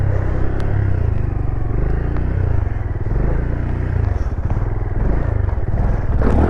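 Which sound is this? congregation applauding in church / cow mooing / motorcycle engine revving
motorcycle engine revving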